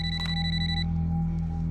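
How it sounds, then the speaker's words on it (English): A telephone rings with a bright electronic tone that cuts off partway through, sounding over a steady low hum in a true-crime television drama scene about an unexpected call. "she receives an unexpected phone call"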